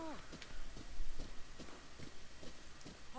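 Horse hooves clip-clopping at a walk in Breath of the Wild, a steady run of soft, evenly spaced footfalls beneath ambient game sound and background noise.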